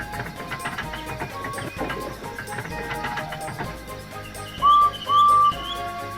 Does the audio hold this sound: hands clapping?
no